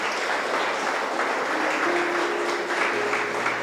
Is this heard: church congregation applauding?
yes